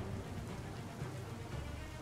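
Heavy rain pours steadily in the video game Biomutant, a dense continuous hiss of downpour with no voices.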